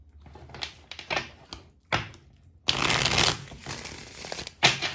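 Tarot cards shuffled by hand in close, crisp bursts of riffling and sliding, several short rustles followed by a longer, louder continuous shuffle and a final flick.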